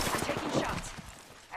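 Quick burst of gunfire in Apex Legends, a short rattle of rapid shots fading within a second and a half, with a voice mixed in.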